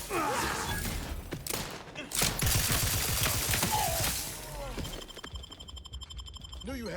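Gunfire in The Outer Worlds 2, rapid volleys of shots and bursts in sustained clusters with thuds and mechanical clanks between them, loud and close, with voices speaking over parts of the fighting.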